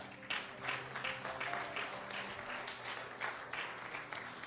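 A church congregation claps during a sermon: a faint, continuous patter of hands in a roomy space, with soft sustained tones beneath.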